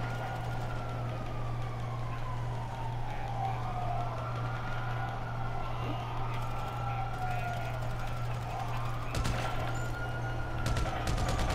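Several gunshots crack near the end in Grand Theft Auto V, a cluster of sharp reports over a steady engine drone and hum, with voices present.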